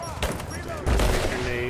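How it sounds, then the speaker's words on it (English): Gunfire rattles in a Dune video game, with dense, loud shots and a heavy burst near the middle and talk underneath. "Machine guns, yeah."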